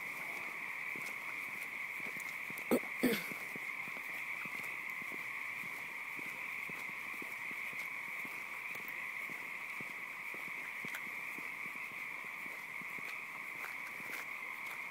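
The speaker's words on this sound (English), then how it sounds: "frogs in the water frogs." Frogs call from the water in a steady, unbroken chorus, layered trilling held at an even level throughout, with a couple of brief knocking sounds near the start.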